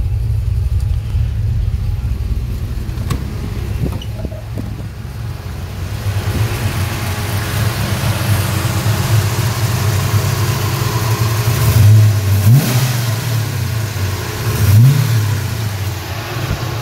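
A V8 car engine running on an STM32F407 Pro ECU idles with a steady deep rumble, then gives two rising revs near the end, close and loud with no talk.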